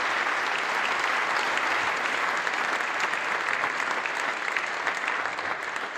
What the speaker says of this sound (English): I just think that deserves a round of applause.